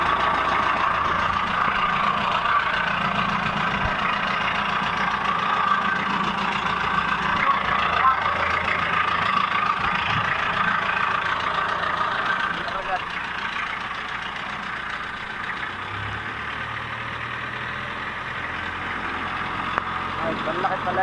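A fishing boat's Mitsubishi 4DR5 diesel engine runs steadily on a test drive, a loud continuous drone with a slight easing of pitch partway through. No one speaks over it.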